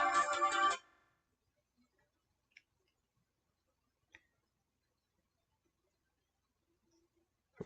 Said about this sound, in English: Forgot to put my phone on Do Not Disturb.